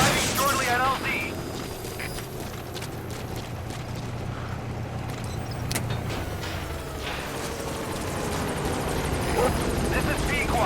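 A B-Quad helicopter approaches a landing zone in Metal Gear Solid 5, its rotor drone rising steadily beneath a radio voice and a sharp burst of game effects near the start.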